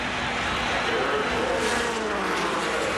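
An Indy race car with a wobbling wheel on the 25th lap of the 1991 Indianapolis 500 drones steadily under dense crowd and track noise, loud and continuous, with a faint voice mixed in.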